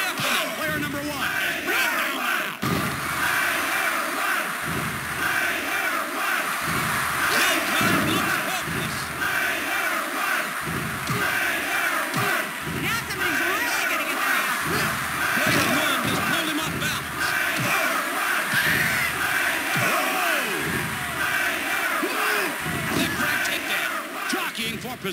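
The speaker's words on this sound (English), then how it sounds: "This crowd is deafening." A wrestling arena crowd in the PS1 game WWF Warzone, a dense, steady roar of cheering and yelling that holds at a loud level, with rises and shouts, plus intermittent in-game voices.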